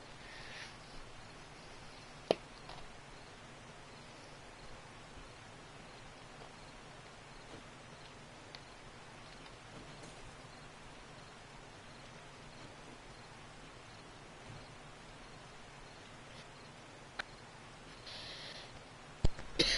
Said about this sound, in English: you can stay here till the rain stops